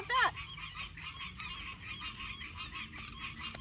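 Frogs call at dusk in a state park, a dense chorus of repeated raspy croaks and trills running steadily throughout, joined near the start by one brief louder honking call.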